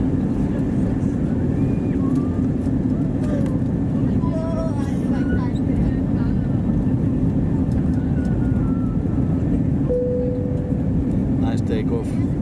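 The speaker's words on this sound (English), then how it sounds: "Nice takeoff." Cabin noise inside an SAS Airbus A320neo climbing after takeoff from Copenhagen, a steady loud engine and air roar heard from the seat, with faint chimes and brief higher tones over it.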